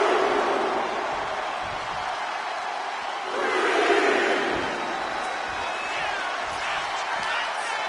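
Arena crowd at a WWE 2K26 wrestling match on PS5 with R-Truth in the ring, a steady roar that swells loudly midway, heard under a commentator talking.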